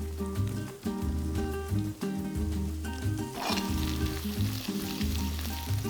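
Thinly sliced garlic and chili sizzle steadily in hot oil to make a spicy garlic oil base for anchovy pasta, a constant crackling fry beneath background music.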